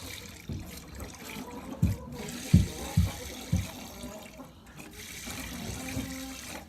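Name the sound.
milk streaming into a bucket while hand-milking a cow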